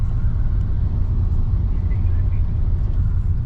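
An Aston Martin DB12 rumbles low and steady nearby, a constant engine drone that neither rises nor fades.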